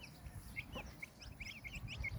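Hint horozu chickens cluck softly in short, repeated calls over a low rumbling background, fairly close and steady throughout.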